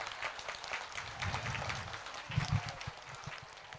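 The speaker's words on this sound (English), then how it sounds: "A round of applause, please, from the audience." Steady applause from an audience, a dense wash of clapping lasting the whole few seconds, moderately loud with some louder bursts near the end.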